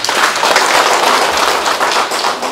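Steady, dense applause from a large audience at a graduation ceremony for a social welfare college course, loud and continuous throughout with no break.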